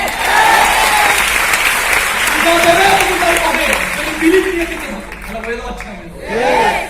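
An audience applauds inside an indoor stadium, a dense wash of clapping with scattered voices and laughter, easing off toward the end and then swelling again briefly.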